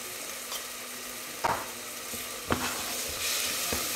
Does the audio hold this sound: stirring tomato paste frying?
yes